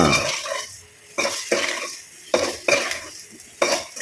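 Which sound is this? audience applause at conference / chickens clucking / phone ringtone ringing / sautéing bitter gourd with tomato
sautéing bitter gourd with tomato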